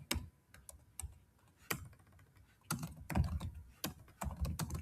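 Typing on a computer keyboard, close and fairly quiet, with irregular bursts of key clicks and short pauses; no talk.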